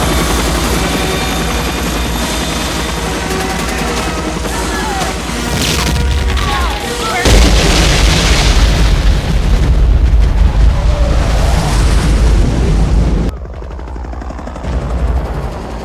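Helicopters roar low over a beach landing zone amid explosions and gunfire, a loud, dense battle din of rotor thrum, booms and bursts with shouting voices underneath, the roar dropping sharply near the end.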